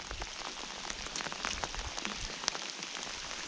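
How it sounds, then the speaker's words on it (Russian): Heavy rain pours down steadily at a fishing spot in summer, a dense close hiss of drops striking the surface with scattered sharper patters, no voices. "Если это был просто дождь, то там идет уже ливень."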